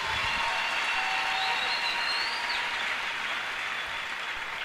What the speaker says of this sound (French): Est-ce qu'on peut acclamer le Seigneur Jésus?